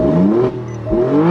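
A Alfa Romeo Stelvio Quadrifoglio engine in dynamic mode revs close and loud, rising twice in pitch with a brief dip between the pulls, with no talk over it.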